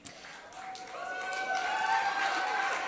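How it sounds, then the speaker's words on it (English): Audience applause fills a teen press conference hall, swelling from a scattered start into steady, sustained clapping from a sizable crowd, with faint voices mixed in. "I'm really enjoying all the applause today"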